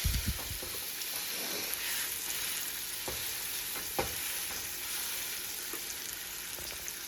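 Chicken breast sizzling in olive oil in a frying pan, a steady loud hiss throughout with a few sharp crackles and pops near the start.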